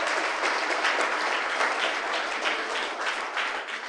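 A church congregation claps loudly throughout, a steady dense roar of many hands with no pauses.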